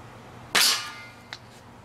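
A homemade pocket slingshot fires a bullet through cardboard with one sharp, close snap and crack, followed by a brief fading ring and a faint second tap a moment later.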